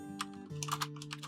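Quick, light keystrokes on a computer keyboard during a Minecraft building session clatter in short irregular bursts over a soft, steady background hum.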